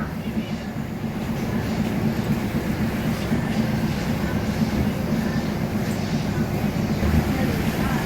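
A State Railway of Thailand train, number 4317, departs Wongwian Yai station, rumbling steadily with a low, continuous roar and faint rattling as it moves along the track.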